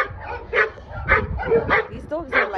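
Several dogs bark in short repeated bursts, about four sharp yaps spaced roughly half a second apart, close and loud, with a person talking over them.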